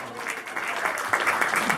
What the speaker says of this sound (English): Got to give a round of applause for that.